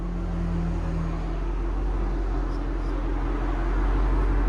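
A 2021 Ford Mustang GT with a 5.0L V8 and a Corsa Xtreme cat-back exhaust idles with a deep, steady rumble, close and continuous with no voices.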